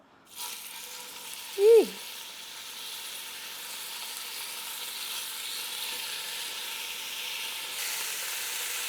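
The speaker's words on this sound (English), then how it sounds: "I'm just gonna lay this in the pan" Seasoned beef laid into a smoking-hot pan sets off a steady sizzle and hiss of frying that carries on evenly, with a brief high exclamation near the start.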